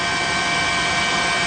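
A news helicopter flies over the tsunami-struck area near the Natori River mouth in Miyagi, giving a steady, loud, broadband engine and rotor roar that holds unchanged throughout with no talking.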